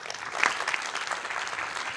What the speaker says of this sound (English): let's give Pete another round of applause